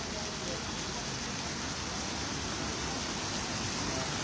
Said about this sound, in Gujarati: વરસાદ જે વરસી રહ્યો છે.